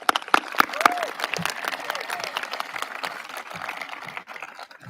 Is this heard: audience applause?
yes